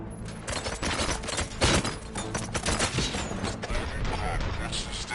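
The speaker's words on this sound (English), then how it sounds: "Gunshots? What's going on?" Rapid bursts of gunfire in the video game RoboCop: Rogue City crackle continuously and loudly, layered with clanking mechanical noise, like a busy battle scene.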